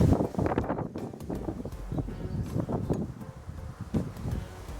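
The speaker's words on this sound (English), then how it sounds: "Sorry about the wind, guys." Outdoor wind buffets the microphone in steady, rumbling gusts during work fitting gauges to a TEF 20 tractor, with no voices.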